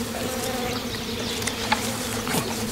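A dense, steady swarm of bees buzzes loudly and close at a hive being raided by bears, with a continuous droning hum and no voices.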